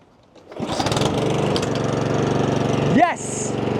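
A Honda lawn mower engine fires up after a pull and settles into a loud, steady running drone close by, with a brief rising rev near the end.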